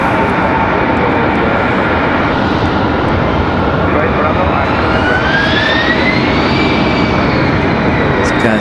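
CRJ regional jet taxiing in to the gate at Raleigh-Durham International Airport, a steady loud engine roar with a rising whine, near and continuous, heard with no talk over it.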